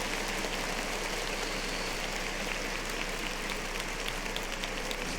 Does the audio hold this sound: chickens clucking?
no